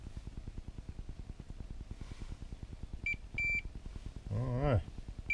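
A multimeter on continuity mode beeps twice in quick succession, short and clear, while checking a car door speaker wire. A low hum sits underneath and a brief voice-like sound follows.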